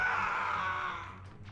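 A single drawn-out scream in the Xenoblade Chronicles X video game, loud at first and then slowly fading over about a second and a half, with no talking over it.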